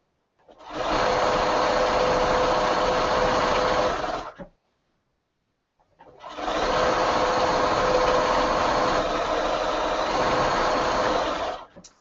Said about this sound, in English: now we're going to sew this cuff on top here